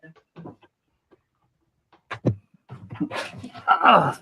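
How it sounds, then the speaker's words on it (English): Dogs whimper and yip in short high bursts close by, the sounds growing busier toward the end between brief gaps of silence. "Dogs."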